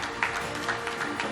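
An audience claps together at a stroke care awards ceremony, with steady, dense applause filling a hall at moderate volume and sharper claps standing out near the front.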